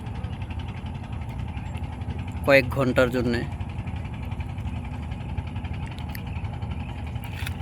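A trawler boat's engine on the Padma river, a low steady drone heard from nearby, with someone talking over it partway through.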